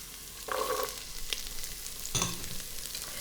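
Onions, then carrots, hitting hot oil in a soup pot for a bean and vegetable soup, giving a close, steady sizzle and crackle with brief stirring scrapes and a sharp burst of spitting partway through.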